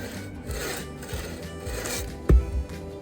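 A bow saw rasps back and forth through a log in slow, even strokes, a close scratchy rhythm ending in a short, heavy knock as the cut nears the bottom.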